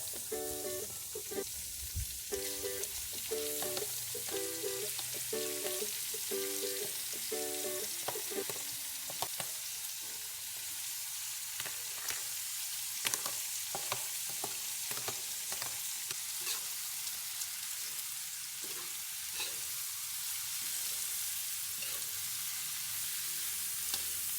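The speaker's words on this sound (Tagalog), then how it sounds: "Igisa na natin sabay-sabay ang karne." Meat sautéing for Ilocano igado, a steady close sizzle and crackle of frying in a pan, with rhythmic stirring early on and then continuous spitting, no talk.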